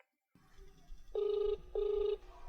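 A telephone rings twice in clean, loud electronic bursts, each about half a second, with a short gap between them, while a call is being placed; faint background noise sits underneath and no one speaks.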